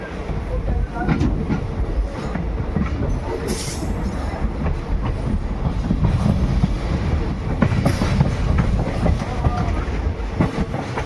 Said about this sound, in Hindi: तो 2 मिनट रुकने के बाद ट्रेन डिपार्चर हो रही है सूदसर रेलवे स्टेशन से।